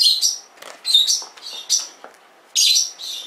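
Several parakeets chirp and tweet from inside a bag of parrot food, a run of short, bright, close calls with brief pauses between them.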